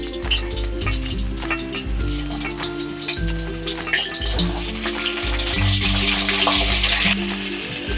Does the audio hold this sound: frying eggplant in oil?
yes